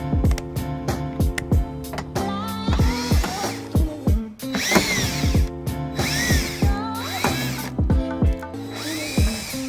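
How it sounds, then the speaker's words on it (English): A cordless power drill whirs in repeated short bursts, each spinning up and winding down, with clicks of 8mm screws loosening between runs, on a 2018 BMW X1. "I'll be taking my cordless power drill to remove the 8mm screws."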